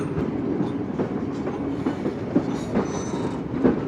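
A passenger train rolls along an elevated railway line on the Karachi to Larkana route, with steady wheel rumble and repeated clickety-clack rail joints, continuous and close throughout.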